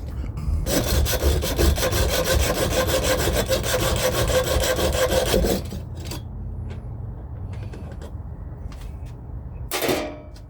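Hacksaw cutting into a telescope tripod, steady rapid back-and-forth rasping strokes for several seconds, then quiet with light handling clicks and one short final scrape, close by.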